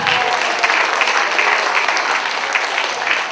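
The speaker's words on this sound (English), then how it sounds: "Give these young ladies a big hand of applause." Audience applause at a Kerala Queen talent pageant finale for the winners, a dense, loud, sustained clapping from a crowd filling the whole moment without letup.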